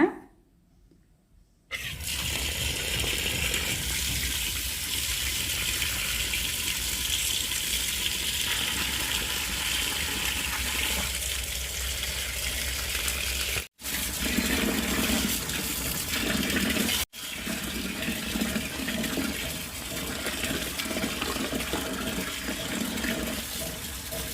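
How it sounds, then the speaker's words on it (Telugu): Water pouring steadily from a tap into a tub of paddy grain to wash it at home; a loud, continuous rushing gush after a brief quiet start, interrupted by two short cuts, with no talk. "ధాన్యం అయితే ఇందులోకి పోసేసుకుని వాటర్ పట్టాలండి"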